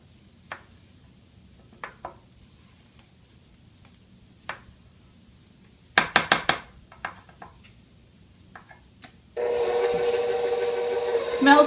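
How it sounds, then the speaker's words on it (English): A spatula scrapes around the sides of a bowl of Christmas cookie dough in a few sharp, close clicks and rasps amid quiet gaps, followed by a steady loud whir of a mixer at the end. "Let me just scrape the sides of the bowl again."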